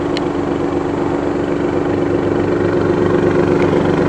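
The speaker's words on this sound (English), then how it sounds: "so that you could actually hear the rumble of the exhaust" Exhaust of a 2018 Alfa Romeo Stelvio Quadrifoglio left running, a steady low rumble that holds even and fairly loud throughout, close by with no talk over it.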